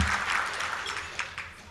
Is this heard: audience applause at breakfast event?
yes